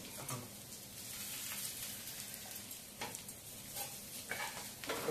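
Fish and green chillies frying in a pan for a spicy fish fry, with a steady sizzle and occasional scraping stir clicks near the microphone.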